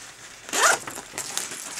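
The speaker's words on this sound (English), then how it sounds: "And in the back, we have another zipper." A zipper on the back of a Nicole Lee over-the-shoulder tote handbag is pulled in two quick close strokes, a longer rasping zip followed by a shorter one, with no talking.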